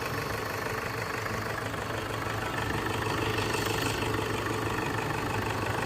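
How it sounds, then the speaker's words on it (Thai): A Toyota Sport Cruiser 2.5 D4D 4x4 pickup diesel engine from 2003 idles steadily nearby, a low, even rumble with a faint ticking knock running throughout, no voices. "เสียงเครื่องยนต์เพราะมาก ๆ นะครับ เครื่องก็ถือว่าเดินเรียบเดินนิ่งนะครับ"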